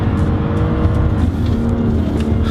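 A BMW M3 drift car is driven hard around a race circuit, its engine droning loud and steady from close by with no pauses.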